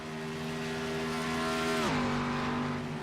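Race car engine roaring loudly past at the Indianapolis Motor Speedway during a Friday Night Thunder race, a steady high whine that drops sharply in pitch as the car passes by, with no talk.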